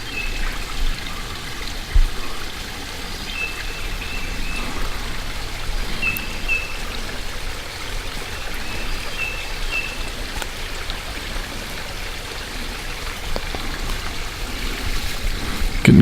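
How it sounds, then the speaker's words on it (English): A small creek waterfall in Shawnee National Forest, a steady close trickling and splashing of water over rock that runs without a break, with no voices. "Cool little creek fall."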